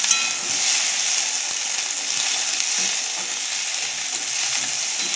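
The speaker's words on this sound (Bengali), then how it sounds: "এবারে আমি এই কেটে রাখা কুন্দুরিগুলো দিয়ে ভেজে নেব। কালো জিরেতে আর তেলেতে" Sliced ivy gourd sizzles in hot oil with black cumin in a wok while rain drips into the pan, a bright, steady crackling hiss that stays dense and unbroken throughout.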